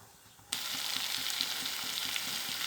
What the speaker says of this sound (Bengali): ঢাকনা দিয়ে ঢেকে কষাতে থাকবো